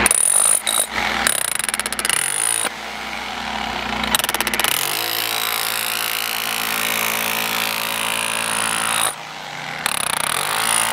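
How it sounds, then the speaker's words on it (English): An electric demolition hammer drives metal spikes into paver edging for a patio, hammering loudly and continuously in long bursts with brief pauses between them, close by. "demolition hammer like this, or electric hammer, whatever you want to call it, to drive spikes"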